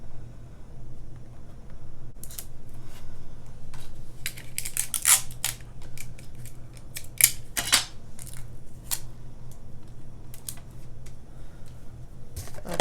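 Paper and tape rustle and crackle in short, sharp bursts as tape is pulled and pressed down to hold a card in place for die cutting. The sounds are close and come in uneven clusters over a quiet background.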